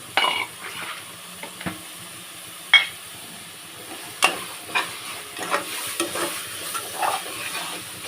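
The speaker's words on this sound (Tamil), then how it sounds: "இஞ்சி பூண்டு பேஸ்ட் நல்லா வதங்கிடுச்சு" Ginger garlic paste sautés in a pan for Ambur-style chicken biryani, with a low sizzle under a series of distinct spoon scrapes and metallic taps against the pan.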